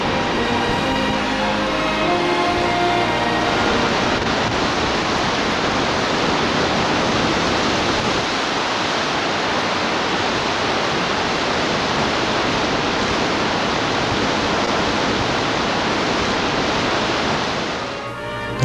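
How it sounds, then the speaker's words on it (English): Helm Canyon waterfall, a 140-meter drop in the Rocky Mountains' Wells Gray Park, roars as a dense, steady wash of falling water that stays loud and unbroken before cutting off at the end. "140 meters, creating Helm Canyon Waterfall"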